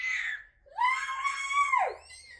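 A toddler's high voice imitates a coyote howl, a rising then sustained wavering 'ooh' that drops off, following a brief higher cry.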